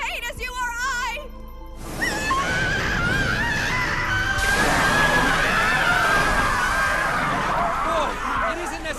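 A person screams in agony, a long strained cry that rises and wavers for several seconds amid dramatic anime-dub sound, loud and close, with other voices briefly in the mix.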